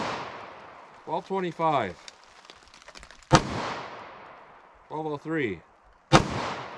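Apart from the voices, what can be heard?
Winchester Silvertip gunshots from a compact 4-inch pistol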